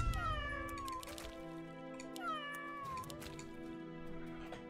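A cat meows repeatedly in the tower-defense video game Legion TD 2, with two long, clear, drawn-out calls that rise and fall in pitch, loud and close with no talking over them.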